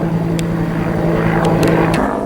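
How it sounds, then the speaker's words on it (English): Rotor aircraft passing over a rural farm property, a steady droning engine hum with a strong low tone that holds throughout, fairly loud and continuous with a few brief higher clicks on top, no talk. "Why does it sound like there's a helicopter flying over my property?"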